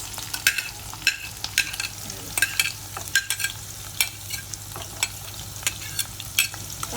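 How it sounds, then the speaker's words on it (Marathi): Onions sizzling and frying in a pan while making fresh kolim (tiny shrimp), with frequent scraping stirs at an irregular rhythm over a steady low hum, close up and with no talking. "कांदा मस्त फ्राय करायचे"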